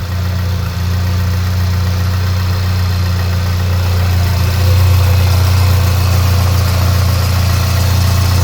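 A VW Polo R Line engine idles steadily right after a wiring harness swap, a loud, close, continuous low rumble with a constant hum and no pauses, with no voices over it.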